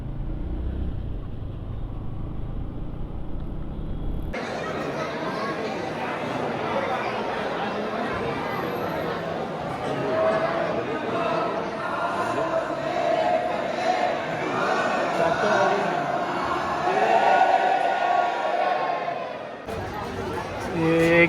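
Dense crowd chatter at the Dwarka temple in Gujarat, a steady wash of many voices with vehicle noise mixed in, near and continuous throughout, swelling slightly toward the end.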